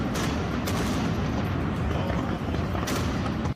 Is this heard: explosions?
yes